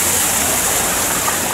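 Water flowing in Madrid makes a steady, full rushing hiss like a small waterfall or fountain, close and unbroken throughout, with no voices.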